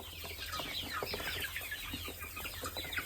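Several chickens cluck steadily and close by while pecking at ponnanganni greens. Their short, overlapping calls continue throughout.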